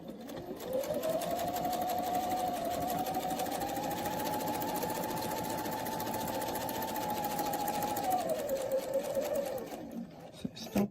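A sewing machine stitches a quilt in one steady, continuous run of fast mechanical whirring, close and loud, winding up smoothly at the start and slowing to a stop near the end.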